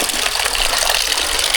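Water gushes steadily from a gomukh stone spout fed by a year-round spring at Yedshi. The rush of water is loud, continuous and close, with no speech.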